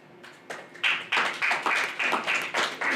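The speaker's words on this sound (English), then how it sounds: "Big round of applause for that" A few people clap at a business presentation on home buyback schemes: sparse, fairly loud, evenly spaced handclaps in a steady rhythm, with no talk over them.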